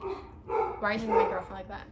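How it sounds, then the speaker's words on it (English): Dogs bark faintly in the background, in a few short yips, while a person speaks clearly over them in the foreground. "if you can hear my dogs in the background"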